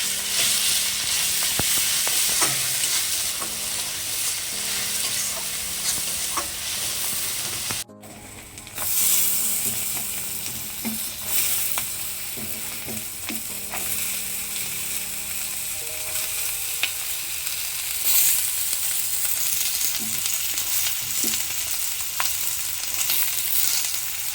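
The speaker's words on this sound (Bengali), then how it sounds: "এখানে আমার জিরে বাটা দিয়ে অল্প করে একটু তেল দিয়ে মশলাটাকে আমি একটু কষিয়ে নেব।" Cumin paste and spices frying in a little oil in a pan, giving a loud continuous sizzle with occasional stirring clinks, heard close up; the hiss briefly cuts out partway through, then resumes.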